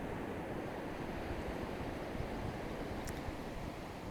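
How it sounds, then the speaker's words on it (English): Ocean waves roll in onto a beach at sunrise as a steady, soft, continuous wash of surf with no distinct breaks, heard alone. "the beautiful sounds of the waves rolling in here at sunrise"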